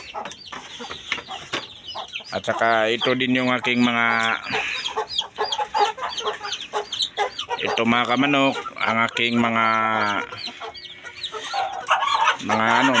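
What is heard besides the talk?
roosters crowing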